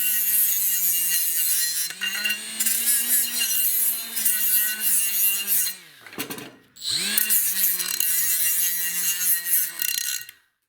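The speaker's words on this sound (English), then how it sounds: "I'm just going to clean the burrs here with this little flap disc" A small flap disc grinds burrs off a machined metal part for a snowblower repair, a loud, high, whining rasp held for long stretches and broken by a brief pause near the middle.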